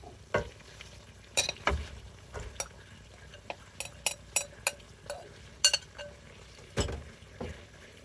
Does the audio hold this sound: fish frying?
yes